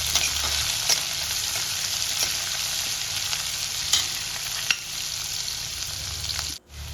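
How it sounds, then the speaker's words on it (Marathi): Onion fries with curry leaves and red chillies in a pan for a dhaba-style mixed dal tadka, making a steady loud sizzle with occasional stirring clicks and scrapes; the sound briefly cuts out near the end. "आता कांदा घालायचा आहे आणि व्यवस्थित सर्व मिश्रण मिक्स करून घ्यायचं आहे"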